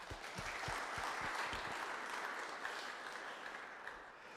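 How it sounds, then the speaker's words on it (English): A conference keynote audience gives a steady round of applause for the event sponsors, dense and even throughout, heard from within the hall with no talking over it. "a big thank you and round of applause to our sponsors"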